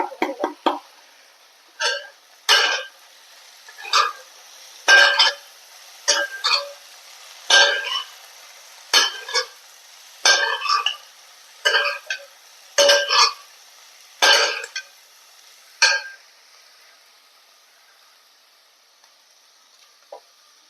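Okra thoran being stirred with a crushed spice mix in a pan makes a slow, regular series of distinct scraping strokes, each about a second apart, over an otherwise quiet background that fades out toward the end.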